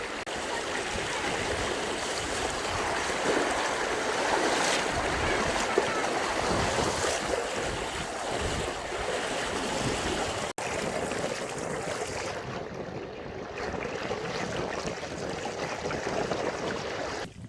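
People wade on foot through knee-deep floodwater across fields, producing a steady, close sloshing and rushing of water that continues without pause.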